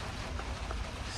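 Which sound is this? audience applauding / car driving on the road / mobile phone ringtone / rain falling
rain falling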